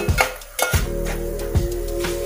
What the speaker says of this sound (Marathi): कांदा आपल्याला चांगला लाल होईपर्यंत परतवायचा आणि मीडियम फ्लेमवरच करायचं आहे